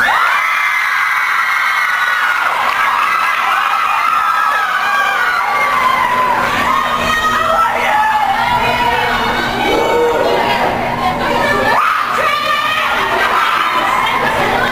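Large VidCon crowd screaming and cheering nonstop at a panel, a loud, dense wall of high-pitched shrieks and whoops that stays intense throughout.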